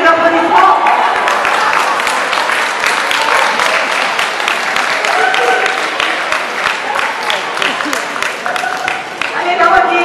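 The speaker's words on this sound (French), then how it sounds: "Ça mérite des applaudissements." A crowd at a banquet show breaks into loud, sustained applause that fills the room for about ten seconds, with voices mixed in beneath the clapping.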